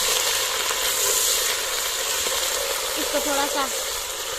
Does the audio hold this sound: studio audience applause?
no